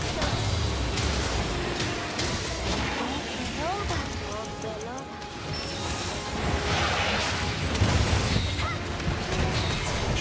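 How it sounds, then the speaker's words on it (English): Explosions boom and crash continuously during a Monster Hunter Rise: Sunbreak hunt against Risen Shagaru Magala, a dense, loud barrage running throughout with a voice talking over it. "Extra explosions. Don't forget the extra explosions."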